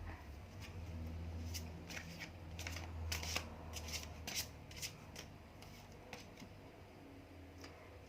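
Tarot cards being shuffled and drawn, giving a run of soft papery rubs and crisp card snaps over a low steady hum, close and fairly quiet, with no talking.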